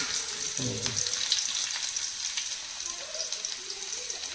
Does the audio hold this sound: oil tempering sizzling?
yes